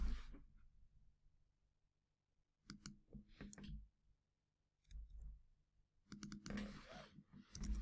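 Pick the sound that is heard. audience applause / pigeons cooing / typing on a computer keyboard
typing on a computer keyboard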